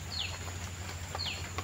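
Village chickens clucking outdoors after rain, two short chirpy calls over a steady low background hum, fairly close and with no one talking.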